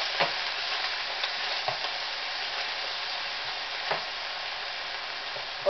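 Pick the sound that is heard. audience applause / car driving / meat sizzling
meat sizzling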